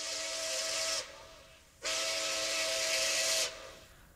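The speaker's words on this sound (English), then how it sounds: "the Pere Marquette 1225 steam locomotive" Pere Marquette 1225 steam locomotive, filmed in 1993, sounds two long whistle blasts, a shorter one and then a longer one, with hissing steam and a brief quieter gap between them.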